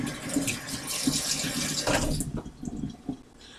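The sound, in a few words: cold tap water rinsing portobello mushrooms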